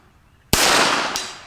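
A single sharp crack of a Rossi Plinker .22LR snub-nose revolver fired outdoors at a steel target range, a loud close report followed by a brief fading echo.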